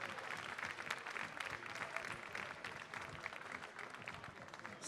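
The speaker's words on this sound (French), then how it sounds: "On peut l'applaudir bien fort." Audience applause at a barista championship awards ceremony, a steady faint patter of many hands clapping from the crowd throughout, with no voices over it.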